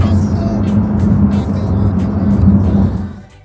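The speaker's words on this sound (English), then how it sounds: "I didn't expect to be driving the Porsche" A Porsche cruises along a road with a steady low engine rumble and tyre roar from inside the cabin, loud and even before fading near the end.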